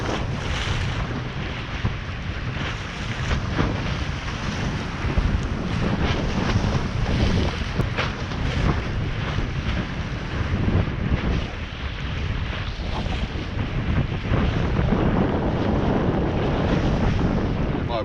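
Wind blowing straight in off the sea at a shore spot for herring fishing, a loud continuous roar with gusts buffeting the microphone throughout.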